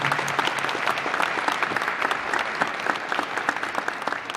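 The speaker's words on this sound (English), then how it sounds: "give you a big round of applause here today" A roomful of people applauds at a press conference honoring a guest, dense and steady clapping from many hands filling the whole stretch at an even, fairly loud level with no voice standing out.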